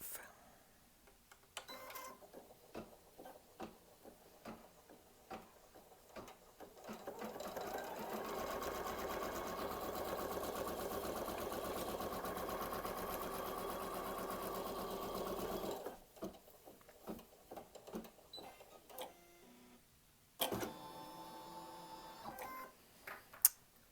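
A home embroidery machine stitches an in-the-hoop towel topper, starting with a few clicks and light taps, then holding a steady close whirring hum for about eight seconds before stopping with scattered clicks.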